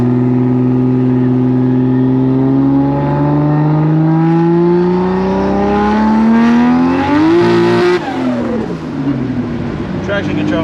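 A Toyota Supra making over 1,000 horsepower on boost setting 3 accelerates hard on the street, its engine climbing steadily in pitch through a long pull before a sharp shift and renewed roar, loud and close from inside the car.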